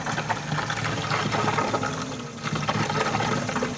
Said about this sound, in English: Actually pumping a reasonable amount of water.